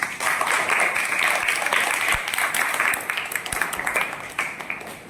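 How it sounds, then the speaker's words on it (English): A class of school students claps together in a classroom, brisk continuous applause with a few sharp louder claps standing out, sustained evenly for about five seconds before thinning slightly at the end. "So please clap for him."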